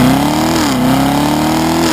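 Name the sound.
2017 Corvette Grand Sport engine accelerating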